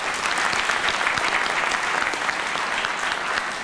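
An audience at a conference keynote applauds for Nelson Mandela, a dense, even wash of clapping that holds steady for several seconds with no break.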